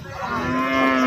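A cow lows steadily and loudly at a roadside cattle market in Rajshahi city, one sustained moo that fills the whole moment.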